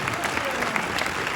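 Brief burst of audience applause for a film crew at a meet-and-greet with the director, a dense continuous patter of clapping mixed with crowd murmur.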